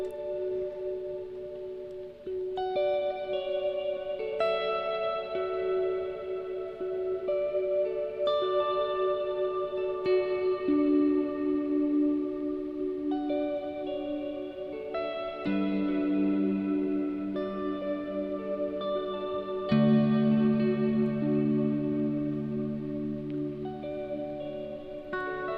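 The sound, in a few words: looper pedal layers fading with reverb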